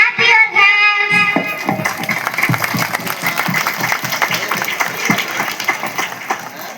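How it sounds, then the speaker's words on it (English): Brisk, repeated hand clapping follows a short sung or tonal opening, the claps coming steadily and fairly close in a classroom-like setting. "Clap your hands."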